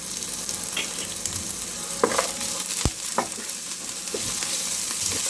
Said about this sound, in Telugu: సాల్ట్ వేయటం వలన ఆనియన్ త్వరగా వేగిపోతాయి